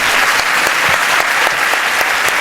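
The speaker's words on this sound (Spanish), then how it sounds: "¿A qué le dan ustedes ese aplauso?" Sustained audience applause fills a lecture hall at a science and spirituality congress, dense steady clapping from a large crowd, loud and continuous without pause.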